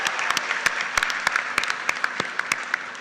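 Steady crowd applause at a university convocation ceremony, a continuous wash of many hands with occasional louder individual claps, heard from within a large hall.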